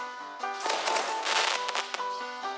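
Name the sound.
grenade explosion in an indie first-person shooter video game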